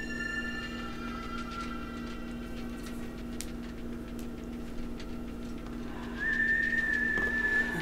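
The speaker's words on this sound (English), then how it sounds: "it's exactly like Negan's whistle" Faint, thin whistling in a Walking Dead episode, a steady high tone held for several seconds that then rises into a brighter, louder whistle near the end, over quiet background ambience.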